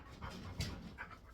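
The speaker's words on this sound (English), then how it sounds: "I have 2 dogs here that are possibly going to knock my phone over any second." Dogs pant close by indoors, a few soft breathy puffs in quick succession, faint and brief.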